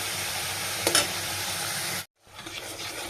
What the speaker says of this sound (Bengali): দেখো মশলাটা খুব সুন্দর লাল লাল ভাজা হচ্ছে এখানে